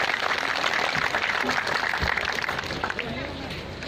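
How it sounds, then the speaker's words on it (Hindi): Applause and clapping from a crowd at a Maharana Pratap statue unveiling ring out under a man addressing the gathering over loud, echoing public address, with crowd babble throughout. "एक बार जोरदार ताली बजाकर स्वागत है, अभिनंदन है"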